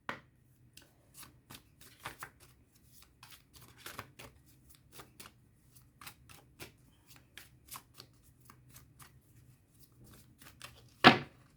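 Tarot cards are shuffled close up in a quiet room, with soft, irregular riffles and flicks throughout and one sharper, louder slap of the cards near the end.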